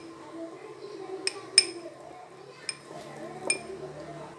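A spoon stirs a paste of flour, salt and oil in a bowl, giving a few sharp, quiet clinks at irregular moments while someone talks over it.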